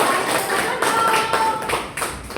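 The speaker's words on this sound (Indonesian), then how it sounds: "Tepuk tangan dulu." Children clapping together in a primary school classroom, a steady run of sharp claps lasting a couple of seconds with no talk over it.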